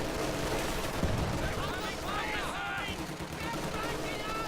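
Machine gun bursts and pack howitzer shots in a multiplayer war video game, rattling and booming steadily at mid distance while someone talks over the fighting.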